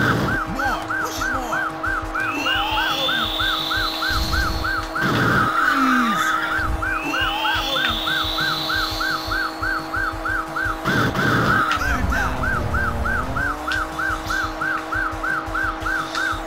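A car engine revs and accelerates in the retro arcade racing game Chase H.Q., with a rising engine drone and a wailing police siren looping over it, plus occasional tyre skids, loud and continuous.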